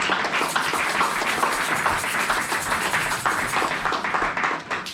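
A church congregation claps and applauds for the Lord during a worship service, a dense steady crackle of many hands filling the room at close range for the full stretch.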